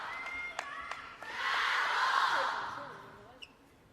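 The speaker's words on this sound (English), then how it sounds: "The Chateau chants in the crowd." A table tennis crowd chants and cheers during a WTT China Smash 2025 mixed doubles semifinal, a swelling roar that rises after a couple of sharp ball knocks and fades away, heard at a distance beneath the arena ambience.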